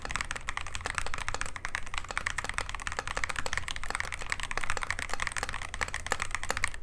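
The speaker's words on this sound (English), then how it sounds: "We have Epomaker switches here, some linears, and the sound is pretty smooth" Rapid, continuous typing on an Epomaker TH96 mechanical keyboard with Epomaker linear switches, a dense stream of close, smooth clacks with no pauses or voices.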